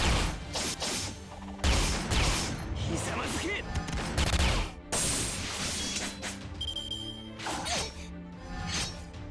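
Gunfire in the mobile game Fate/Grand Order, a dense burst of rapid shots mixed with whooshes and impact crashes, loud and continuous, with someone talking over it.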